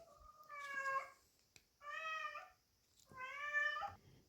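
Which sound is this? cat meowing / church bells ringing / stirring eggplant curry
cat meowing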